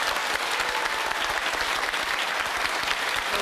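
A studio audience claps in steady, dense applause that fills the room evenly from start to finish.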